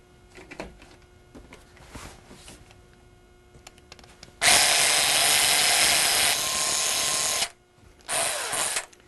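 Electric mixer beating blueberry muffin batter in a bowl, a loud steady whir for about three seconds, a brief stop, then another short burst, after quieter handling clatter.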